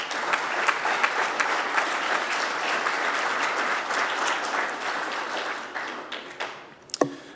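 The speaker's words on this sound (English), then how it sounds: "let's give a nice round of applause to Mr." A hall audience at a university athletics Hall of Fame ceremony applauds steadily for inductee Dominic Jones, the dense clapping holding for several seconds before thinning out and stopping, with a few last claps at the end.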